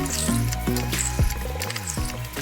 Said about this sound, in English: I have a glass here which I'm going to fill up with water.